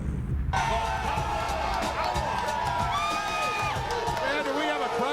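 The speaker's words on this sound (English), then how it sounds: "And we have a crowd here today." A studio crowd at a pro wrestling show cheers and whoops loudly and continuously, with scattered clapping and shouts blending into a dense roar throughout.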